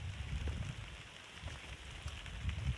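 Steady rain patters down in a soft, continuous hiss, fairly quiet and close, with no voices.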